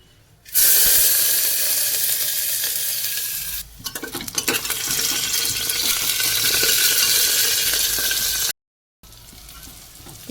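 Onions frying in a pan with whole garam masala, ginger, garlic and capsicum: a loud, steady sizzle broken by a short pause and a burst of clattering stirring, then continuous hiss until a brief gap near the end.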